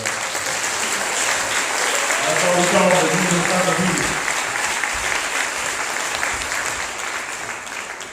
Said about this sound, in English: Let's give Brother one a round of applause, man.